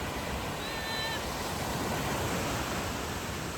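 Ocean waves wash onto a Miami beach, a steady broadband rush of surf that stays constant and fairly soft throughout.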